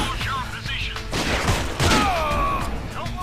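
Gunfire crackles through a video game shootout, with bursts of shots and thuds under sniper fire while someone talks over the action and an electronic tone whines in the background.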